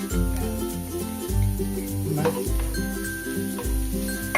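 Garlic sautéing in a pan after beef skin has been browned for balbacua kaldereta, a steady sizzle with scraping stirs, clinks and shifting, musical tones running underneath throughout.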